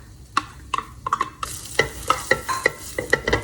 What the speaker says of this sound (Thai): น้ำมันนะคะ เปิดไฟค่ะ ตามด้วยกระเทียมแล้วก็พริกค่ะ